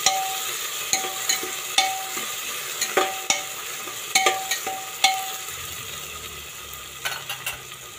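Tomato and two or three slit green chillies sauté in a pan for dal khichdi, with about a dozen sharp spatula scrapes and clinks at an uneven beat over a soft sizzle.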